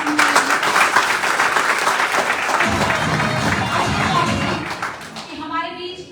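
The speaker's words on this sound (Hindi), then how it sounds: "मैं चाहूंगी एक बार आपके सम्मान में अगेन जोरदार ताली" Loud, dense applause from a crowd at a Hindi business motivational seminar, a sustained wash of clapping that thins toward the end while a voice speaks over it.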